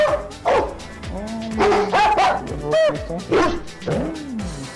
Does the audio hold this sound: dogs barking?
yes